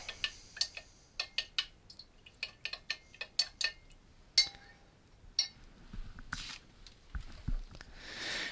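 A glass stirring rod taps and clinks against a container of salted collodion in quick, irregular light strikes, close and clear against near silence, with some softer scraping toward the end.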